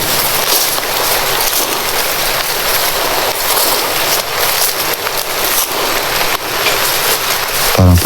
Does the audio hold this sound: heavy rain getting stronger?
yes